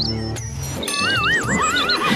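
A horse neighs loudly in a wavering, rising-and-falling whinny partway through, from a merchant's horse in an animated Hindi folk story, preceded by other sound effects and background music.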